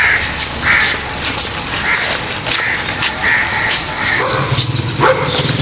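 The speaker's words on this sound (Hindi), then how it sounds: "ये जो कुत्ते भौंक रहे हैं ना" Several dogs barking repeatedly at a distance over dense, loud background noise, the barks coming in short uneven bursts with no voices.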